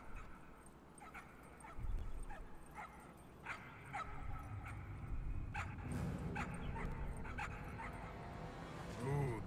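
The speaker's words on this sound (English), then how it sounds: "Look at the cute puppies." Puppies bark and whimper in the game Trover Saves the Universe, a run of quick yips and small barks close by, growing busier toward the end over a low background hum.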